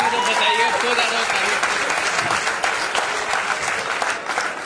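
A large audience at an agricultural products training event claps steadily and densely for several seconds, the applause holding strong throughout with faint voices mixed underneath.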